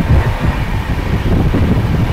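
The 12337 Shantiniketan Express from Howrah to Bolpur running at high speed, a loud steady low rumble and rush of wind from inside the carriage, continuous and close with no talk.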